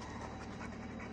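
A shelter dog pants steadily and close by, quick rhythmic breaths that carry on without a break and with no talking over them.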